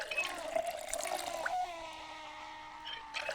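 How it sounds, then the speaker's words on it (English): Water running into a bottle being filled in Project Zomboid, a steady trickling stream with a faint rising tone, soft and close, no talking. "Let's just fill up our bottle of water anyway."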